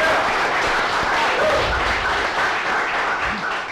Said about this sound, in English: Big round of applause to our chefs